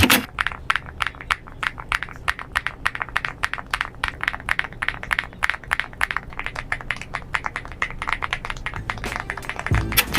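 A mechanical keyboard with thocky switches is typed on in a fast, uneven run of sharp, close keystrokes lasting about ten seconds, with a heavier knock near the end and no talking.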